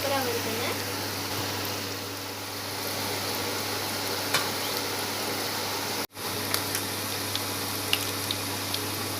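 Rice-flour murukku frying in hot oil, a steady dense sizzle and bubbling that runs throughout with a brief dip partway, heard close and fairly loud.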